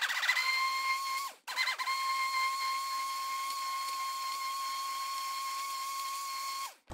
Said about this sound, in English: I'll keep blending now. Needs lots and lots of blending